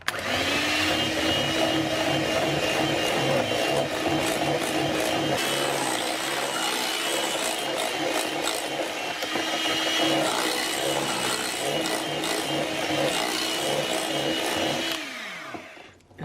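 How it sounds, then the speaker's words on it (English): Peanut butter mousse whisked with an electric mixer until smooth and creamy, a steady loud whirring drone with a rhythmic beating texture running continuously for about fifteen seconds before cutting off. "we'll just whisk it until it's smooth and creamy"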